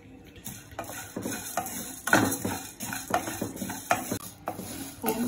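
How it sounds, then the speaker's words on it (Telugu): Whole coriander seeds, cinnamon, cloves, cardamom and pepper are stirred and dry-roasted in a pan, giving a quiet, uneven scraping and rattling of spices against metal with soft light sizzling throughout. "ముందుగా ధనియాలు, చెక్క, లవంగం, యాలకులు అండ్ మిరియాలు వేసుకొని బాగా ఫ్రై చేయాలి"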